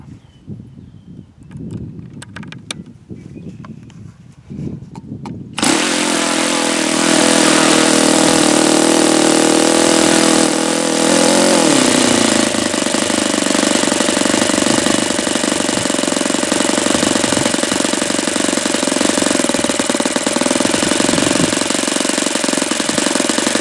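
A Saito FA-72a model engine, running just slightly rich, starts abruptly a few seconds in after quiet handling noises, then holds a loud, steady, close-up idle with a rough buzzing drone for the rest of the clip.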